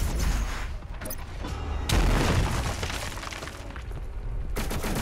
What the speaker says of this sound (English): But who's shooting at me?